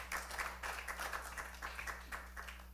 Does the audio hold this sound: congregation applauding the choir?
yes